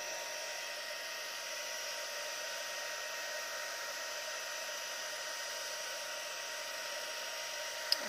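A blow dryer runs steadily, drying a wooden coaster, a constant close whoosh of hiss with no pauses and no talking.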